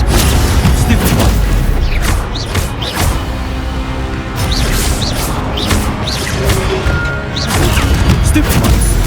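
Spells crash and boom in the video game Hogwarts Legacy, giving a dense run of loud impacts and bursts over continuous game audio.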